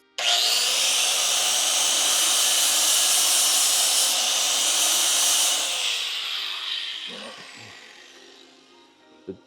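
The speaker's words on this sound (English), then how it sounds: "we're gonna take a little bit off with the little flapper wheel, nothing crazy." Flap wheel grinding a billet S300 turbocharger part, a loud, steady high-pitched abrasive whine that holds for about six seconds, then tapers off as the wheel spins down with a few faint clicks at the end.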